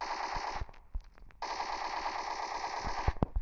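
Gunfire in the mobile battle game PUBG Mobile Lite: two sustained bursts of rapid automatic fire split by a short pause, with scattered single shots and clicks, loud and close.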